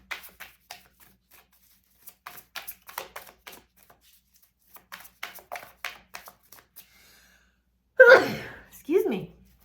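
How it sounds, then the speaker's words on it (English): A single sharp sneeze bursts out close and loud near the end, followed by a short second vocal burst, after a stretch of soft, scattered speech and small handling noises. "confirmation sneeze"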